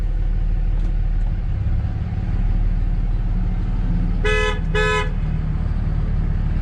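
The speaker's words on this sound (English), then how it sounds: "hear that honking?" A car horn gives two short honks in quick succession over a continuous low engine rumble and road noise.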